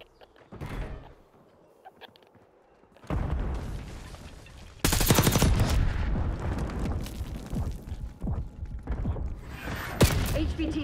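Heavy gunfire in Call of Duty. It starts with scattered shots, then breaks into loud, sustained bursts of rapid automatic fire with mechanical clatter, and voices are faintly heard under it.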